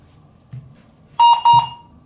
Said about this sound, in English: When you hear the beep, you click the button at the bottom.